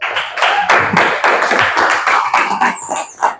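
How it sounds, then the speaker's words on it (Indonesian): Classroom clapping for a student during an Islamic religious education lesson, a small group of hands beating in a quick, fairly loud, uneven rhythm close by, with a brief high squeal near the end. "Tepuk tangan dong buat Billy dong"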